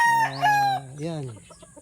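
A hen clucks and crows in a short, drawn-out call, close by and fairly loud, with a trailing lower cluck at the end.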